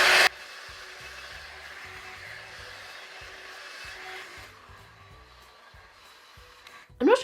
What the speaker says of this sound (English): I'm going to just use the hairdryer on the hot setting probably